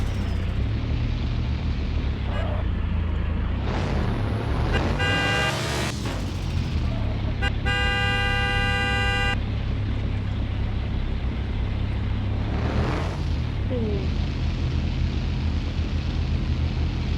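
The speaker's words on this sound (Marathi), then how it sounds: "बघा मित्रांनो रोडला गाड्या पण चालू झाल्या" Busy road traffic with vehicle engines rumbling continuously close by, several passing swells and a long sustained horn blast in the middle, plus shorter honks, with no talking.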